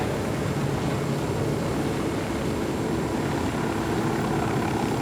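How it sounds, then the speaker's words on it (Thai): Helicopter in the video game Ghost Recon Wildlands, a loud steady rotor and engine drone that fills the whole stretch without pause, close and constant, with no voices over it. "เฮลิคอปเตอร์นี้มัน ผมนึกว่ามันยิงไม่ได้"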